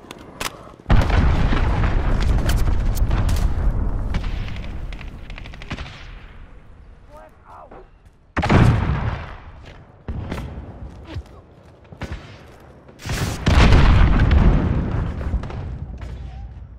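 Cruise missile explosions in Call of Duty: Modern Warfare mixed with rapid gunfire: a long loud booming roll, then several sharp blasts and bursts returning in waves, the last one heavy and sustained.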